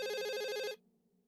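A mobile phone ringtone in the visual novel Katawa Shoujo plays a bright, repeating electronic melody, clear and alone, then cuts off abruptly after under a second.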